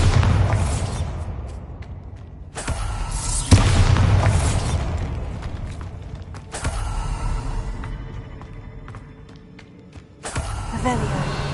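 A Bombarda spell goes off in Hogwarts Legacy on PS5, giving a series of booming bursts with crackling debris, each blast decaying before the next, while a player talks over the game audio.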